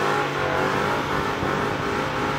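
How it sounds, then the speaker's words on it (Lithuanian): A Ford Mustang with a 5-litre engine runs loud and close, its dense, throaty roar rising and holding as it revs, with no talking. "einam užkurti Mustangą 5 litrų"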